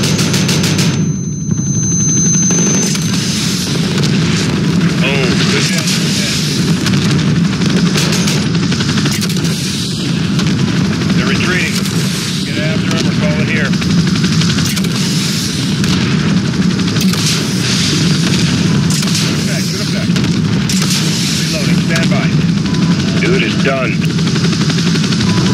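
Dense, loud gunfire and booming missile explosions in the shooter game Call of Duty Modern Warfare, a continuous barrage of rapid shots and heavy blasts with radio voices talking over the battle throughout.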